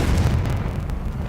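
The Confringo spell in the Hogwarts Legacy video game sets off a loud, close blast with a deep booming rumble that decays over about a second, alone with no voices.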